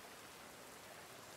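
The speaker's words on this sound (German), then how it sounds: "Es regnet noch." Rainfall in the survival video game The Forest, a faint, even hiss of falling drops that continues steadily throughout without any voices.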